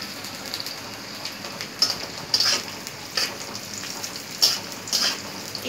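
Onion and chili sizzle in a hot pan for restaurant-style Chinese chicken sizzling, a steady frying hiss with several louder bursts and scraping stirs, close and fairly loud, no voices.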